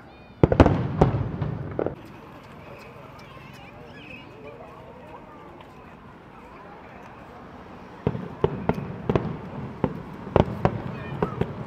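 Fireworks exploding at the 31st Macau International Fireworks Display Contest, a quick cluster of sharp bangs at the start, a quieter lull with crowd murmur, then another rapid run of crackling bursts.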